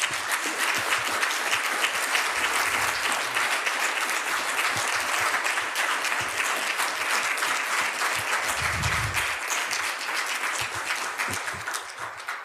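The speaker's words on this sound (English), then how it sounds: "let's give them a big round of applause" Sustained audience applause at a GCEP India workshop's concluding session, dense steady clapping from a large crowd filling the whole stretch, loud and continuous, easing slightly near the end.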